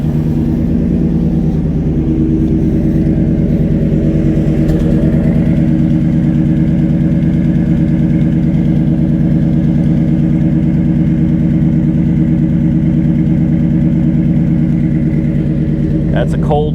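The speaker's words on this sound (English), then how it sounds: "That's a cold start right there." A Ford F-150 Harley-Davidson pickup engine idling loudly and steadily after a cold start, a deep continuous rumble close by, with a voice talking over it.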